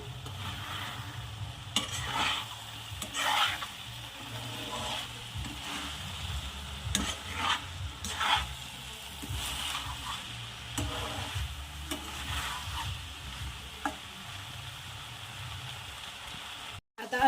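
Rice pulao with peas being gently turned with ghee in a pot, soft intermittent scrapes and stirring strokes over a low, steady sizzle, fairly quiet and close, with no talk.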